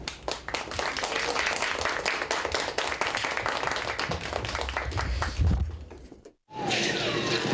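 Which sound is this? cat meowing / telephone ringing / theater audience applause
theater audience applause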